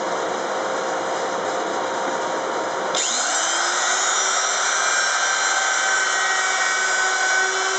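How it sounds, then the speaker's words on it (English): A router fitted with a chamfer bit whines steadily while working on handgun grips, its tone shifting and brightening partway through and then holding as a loud, continuous high-pitched drone. "Chamfer bit."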